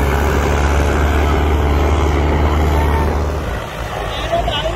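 Two tractors, a Mahindra Arjun Novo 605 DI and a 53 hp four-wheel drive, pull 11-12 tine cultivators in a pulling contest. A heavy, continuous low diesel drone stays loud throughout, with engine strain that eases slightly near the end.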